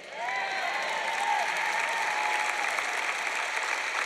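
Steady clapping and cheering from a church-style audience, a dense continuous wash of applause with faint voices mixed in, holding at an even level throughout.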